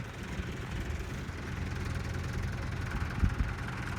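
A tractor engine idles while the machine sits bogged in mud. It gives a low, steady, fairly faint rumble with a brief knock near the end, and there is no talk.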